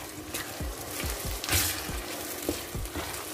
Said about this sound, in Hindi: इसमें लहसुन सॉरी टमाटर और सब्ज़ मिर्च ये ऐड कर दूँगी। और इसको हम अच्छे से मिक्स कर लेते हैं